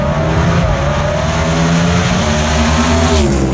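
Gasser drag race cars at KilKare Dragway in Xenia, Ohio launch hard off the line, a loud continuous engine roar with rising revs holding steady throughout, close and dominant with no talk over it.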